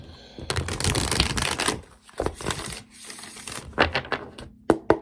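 Tarot cards are shuffled by hand in quick riffling bursts of close, crisp card flutter, separated by short pauses and a few sharp snaps.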